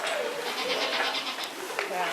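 Goats bleating on a goat farm, a steady chorus of overlapping calls from several animals close by, running continuously with no clear pauses and a brief sharper scratch near the end.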